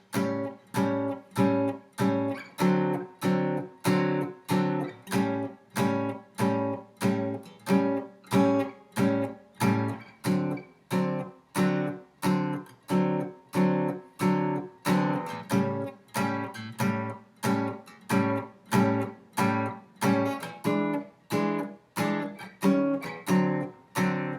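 A blues chord progression strummed in a steady, even rhythm, each chord struck crisply and repeated in a driving shuffle-like pulse throughout.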